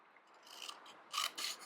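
Hand cream box being cut at an angle, giving a few short crisp snips and scraping bursts close by, the loudest two coming near the end.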